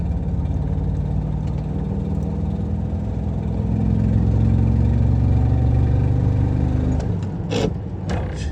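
A Volkswagen T3 van engine under load climbing a hill in second gear, with an exhaust leak that makes it sound like it is misfiring: a steady, close, loud drone that swells slightly mid-way, then eases off near the end.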